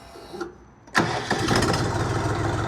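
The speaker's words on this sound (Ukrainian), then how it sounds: "Трьохциліндровий двигун працює ледь не ідеально" A small three-cylinder diesel engine on a Scout XT244 tractor cranks and catches at once, then settles into a steady, loud idle with a rough, throbbing rumble.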